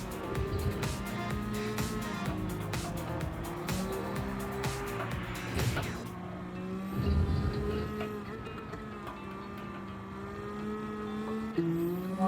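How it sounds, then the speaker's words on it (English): A BMW Z4 race build in Gran Turismo 7 roars through its gears, the engine note rising and falling with shifts and brief tire squeal, loud and continuous with no voices. "What a noise that is from this engine."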